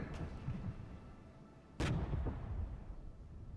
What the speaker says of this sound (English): I do love how the mortars just fire automatically